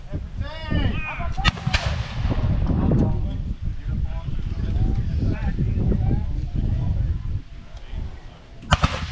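Musket volleys from a line of reenactors doing three-rank firing at a historical rendezvous at Fort de Chartres, loud sharp reports cracking out over steady wind noise, with a voice speaking throughout and another shot closing the stretch.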